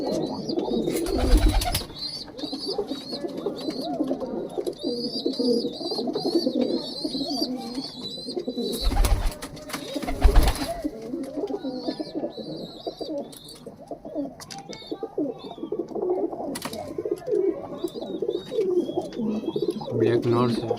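Pigeons coo at close range in a loft of mixed birds, including a red male with chicks, their soft repeated calls running steadily alongside chirping and some nearby movement and talk.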